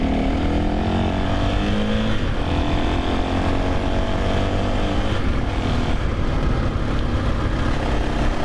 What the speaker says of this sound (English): here I am in second gear, no clutch, complete stop, taking off with just some throttle.